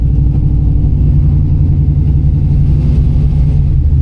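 A loud, close truck engine with a choppy cam idles with a rough, lumpy rhythm. Its steady low rumble pulses unevenly throughout.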